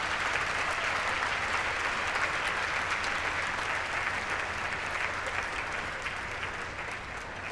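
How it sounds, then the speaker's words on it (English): An audience at a dual enrollment recognition ceremony applauds graduates' families, a dense, steady wash of many hands clapping that holds loud throughout and eases slightly toward the end. "Let's give a round of applause to the families"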